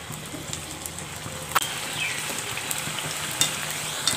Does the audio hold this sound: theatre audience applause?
no